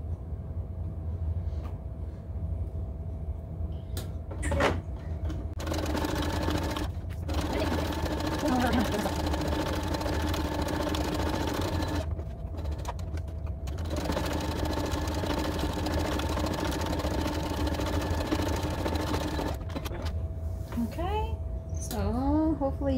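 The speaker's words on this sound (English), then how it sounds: "we're going to sew like an eighth of an inch down the edge, the open edge of the strap" A sewing machine stitches an eighth of an inch along the open edge of a patchwork tote bag strap, running in long steady whirring stretches broken by short pauses, with a voice talking over parts of it.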